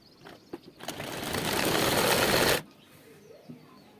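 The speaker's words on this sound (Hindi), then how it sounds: "तो पॉकेट को अंदर फोल्ड करने के बाद एक सिलाई हम ऊपर लगाएंगे" A sewing machine stitches along a folded-in pocket on a pair of women's trousers, running in one steady, loud burst for under two seconds after a few light clicks, then stopping.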